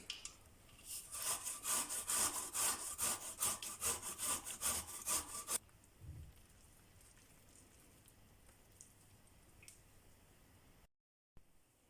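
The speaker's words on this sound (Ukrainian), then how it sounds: "Буряк натираємо теж на великій терці." Fast, steady back-and-forth rasping of beetroot on a coarse grater for several seconds, then it stops, leaving quiet room tone.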